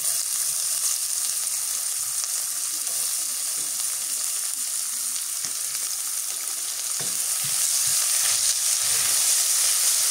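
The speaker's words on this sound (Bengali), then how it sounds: "তার মধ্যে দিয়ে দিই পেঁয়াজ কুচি।" Chopped onions fry in oil in a village kitchen, a steady close sizzle and hiss running throughout with occasional stirring clatter, no talking.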